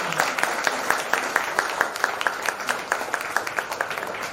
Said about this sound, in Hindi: ताली बजाकर उसे धन्यवाद करेंगे।